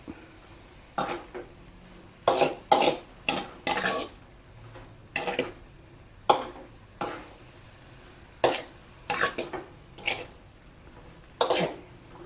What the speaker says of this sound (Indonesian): kaldu jamur, diaduk